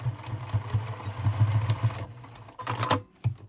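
Sewing machine stitching a zipper placket seam, a fast rhythmic mechanical chatter of needle strokes that runs steadily, pauses briefly, then resumes in short bursts with a few clicks, close by and without talk.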